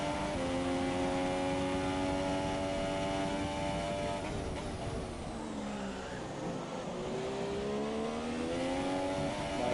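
Onboard engine of a Formula 1 car in F1 2017 at Bahrain, a loud, continuous high-revving scream that drops through downshifts mid-lap and climbs again as the car accelerates away.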